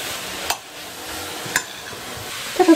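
Seasoned pork loin cutlets with mushrooms and vegetables being stirred in a pan, a soft steady sizzle with a few scraping clinks of the utensil against the pan, and no voices.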